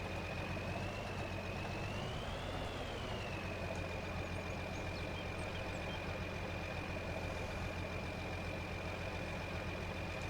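A tractor engine idles in the Farming Simulator 22 video game, a low steady rumble carrying throughout, with a thin whine that bends upward briefly and then holds level, and no voices.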